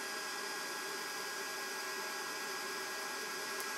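The fan of a workshop dust control unit blows air in a steady, even broadband rush, close and constant throughout, with no voices over it.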